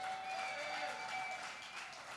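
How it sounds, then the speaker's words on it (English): Audience applause at a church comedy night, a steady wash of clapping that holds fairly even over the full stretch, moderately loud, with no clear talk over it. "Y'all clap it up for him, Lord."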